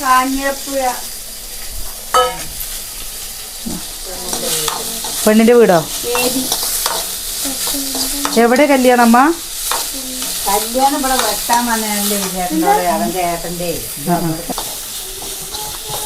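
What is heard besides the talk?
onion and green chillies frying in a pan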